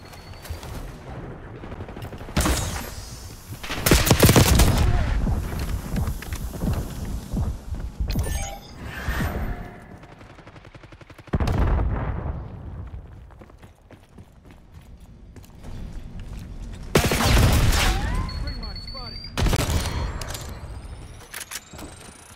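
Bursts of automatic gunfire and explosions in the video game Call of Duty Black Ops 6, loud volleys recurring in clusters with quieter gaps of game ambience between them.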